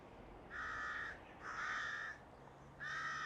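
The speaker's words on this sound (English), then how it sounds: "Very noisy birds" Three loud, harsh crow caws in a row, each about half a second long, clear and fairly close.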